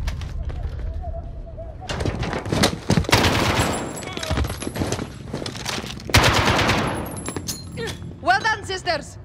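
Gunfire in the Call of Duty: Modern Warfare campaign: dense bursts of automatic fire and repeated loud shots in clusters, with voices speaking between and over the shooting.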